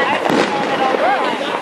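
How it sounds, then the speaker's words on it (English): Fireworks burst outdoors at a Fourth of July display, a dense, continuous crackle of pops and whistling shells that stays loud throughout, with crowd voices talking underneath. "There's fireworks going off everywhere."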